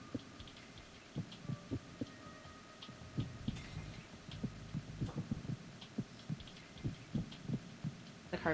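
Quiet, regular heartbeat thumps pulse from the video game Metal Gear Solid 2, a steady double-beat rhythm over a faint low hum.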